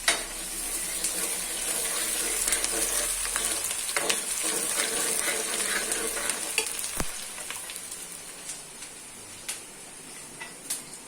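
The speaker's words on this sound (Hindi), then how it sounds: "लहसुन और प्याज को थोड़ा सा पका लेंगे" Garlic and onion fry in a pan, a steady sizzle with scattered sharp ticks and pops that grow sparser toward the end, with no speech.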